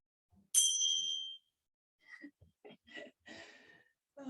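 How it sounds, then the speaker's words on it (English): A yoga bell is struck once up close, giving a bright ringing tone that fades over about a second before someone begins talking. "I've forgotten the bell, but I'm going to grab it here because I'm going to just ding it here"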